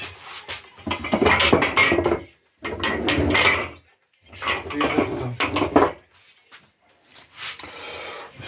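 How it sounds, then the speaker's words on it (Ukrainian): Broiler chicken being chopped apart, feet cut off, backbones cut out and wings separated, with repeated bursts of knocking and scraping on a board in three long runs, with short silent gaps between them. "я лапи обрубую, хребти вирубую і крила зробую"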